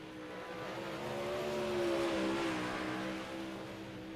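A no-limit sprint car engine hums steadily in the distance at Lernerville, its pitch rising and falling slightly as the car runs around the track.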